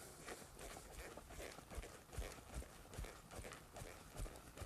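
A horse trots during mechanical cow training in an arena, its hooves beating a steady, quiet clip-clop rhythm of repeated soft thuds, faint and somewhat distant with no voices.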